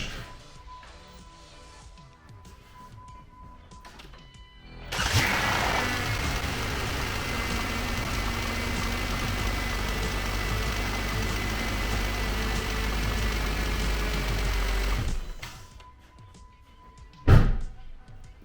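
A Jeep JK Wrangler 3.6 engine, just after an oil change, cranks and catches, then idles steadily and evenly for about ten seconds before shutting off, followed by a single sharp knock; quiet surroundings with no talk.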